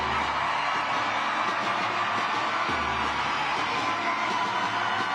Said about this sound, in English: Then it was time for the Vice President herself to take the stage, and the crowd went wild.